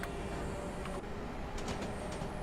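A steady train rumble and rolling clatter in Train Simulator 2017 fills the clip, with a few brief sharper clacks, continuous and fairly loud throughout.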